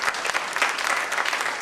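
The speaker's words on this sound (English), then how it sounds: "Please be kind with the applause for Dr. Mohammed" An audience at a national reform forum on vote buying claps for a speaker, with steady, dense applause filling the room for a brief stretch and no talk over it.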